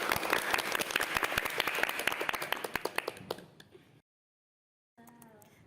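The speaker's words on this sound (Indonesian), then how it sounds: "Tepuk tangan untuk kelompok 1." Classroom applause for group 1, a group of students clapping in quick, uneven bursts that fade out after about three seconds, followed by a pause and then faint room noise.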